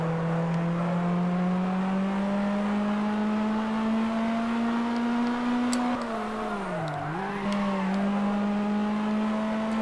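A Mercedes SLR engine drones steadily in Test Drive Unlimited, holding a constant pitch, then dipping and recovering as the car slows and picks up speed again. The engine is loud and close throughout, with no talking over it.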